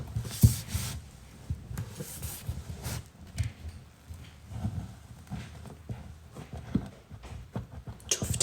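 A knife working through a dense, heavy rich fruit cake thick with fruit, heard as irregular low thuds, scrapes and crunchy sawing strokes, close and fairly quiet, with pauses between cuts.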